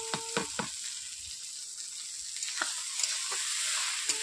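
Susni greens drop onto half-fried onions in a hot pan, a faint continuous sizzle with a few soft clacks of stirring near the start and again toward the end.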